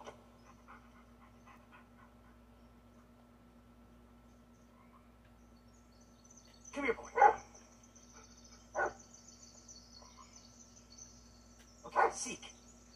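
A dog in the Blair Witch video game gives a few short, sharp barks and pants at intervals over a quiet, faint insect-like night ambience, with long gaps between the outbursts.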